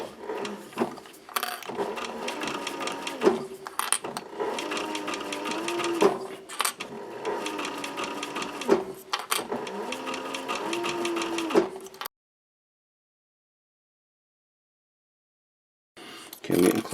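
A sewing machine runs in steady bursts as it stitches newsboy cap fabric, its motor humming close and loud with short pauses between seams, then falls silent for a few seconds before starting again.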